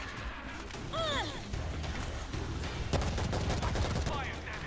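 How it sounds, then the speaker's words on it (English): Gunfire in the zombie shooter World War Z, Moscow level: rapid bursts and single shots crackling under game noise and sweeping effects, fairly loud and continuous. "We're hearing gunfire from the river."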